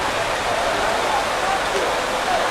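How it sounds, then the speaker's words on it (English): Heavy rain pours around a small shelter during a migrant caravan stop in Huixtla, Chiapas, a dense, loud, unbroken hiss that fills the whole scene. "we are getting a little shelter from this rain"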